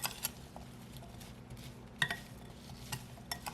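Blackberries being stirred with a keto thickening mixture and lemon juice for a pie filling, soft wet scraping with a few sharp utensil clinks against the bowl, quiet and close.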